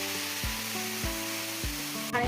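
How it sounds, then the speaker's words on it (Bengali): Hot water hits spiced vegetables in a hot pan for a fish curry, giving a steady, hissing sizzle under soft, rhythmic background music, with a brief louder splash near the end. "মশলা দিয়ে ভালো করে কষানো হয়ে গিয়েছে সবজিগুলো, এবারে আমি গরম জল দিয়ে দেবো"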